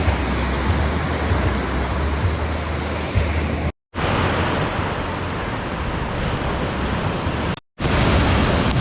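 Waves on a Baltic Sea beach, a continuous broadband wash of surf mixed with heavy wind rumble on the microphone, loud and unbroken apart from two brief cuts.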